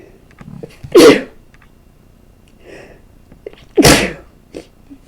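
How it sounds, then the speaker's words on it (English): Two sharp, loud sneezes a few seconds apart, close to the microphone, with quiet breathing between them. "Excuse me, I'm going to sneeze."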